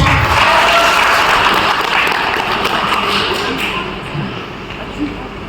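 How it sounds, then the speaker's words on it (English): Crowd applause at a Tangkhul community celebration in Goa welcomes a co-host, strong at first then tapering off, with voices talking beneath it. "Let's give a big applause"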